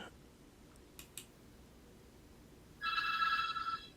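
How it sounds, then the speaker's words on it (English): A phone rings softly at a distance, an electronic ringtone trilling after a couple of faint clicks in a quiet outdoor setting. "My phone's ringing."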